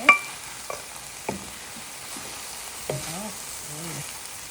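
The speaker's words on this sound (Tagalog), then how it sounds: "halu-haluin na. Haluin lang natin." Mung beans being stirred in a cooking pot, with a few scraping knocks against the metal over a soft sizzle, and brief voice-like tones near the end.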